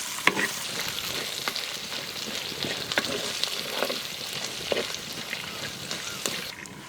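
Chopped onions and green chilies frying in a pan, a continuous close sizzle punctuated by crackling pops and the scrape of a spoon stirring them around.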